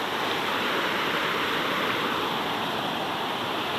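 A waterfall pours down and flows straight away in a steady, dense rush that is close and loud, with no voices.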